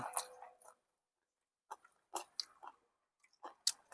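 Close, moist chewing while eating, in short irregular bursts separated by silent gaps, with no talking at that moment.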